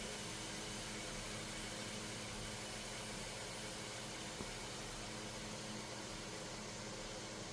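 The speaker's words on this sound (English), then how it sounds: "So the orange is done in the vacuum chamber." A vacuum chamber used for painting fishing lures runs with a steady, faint broadband hiss and hum, unchanging and continuous with no voices.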